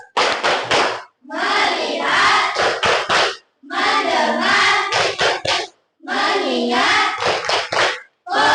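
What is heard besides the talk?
class doing the rhythmic "tepuk fokus" clapping ice breaker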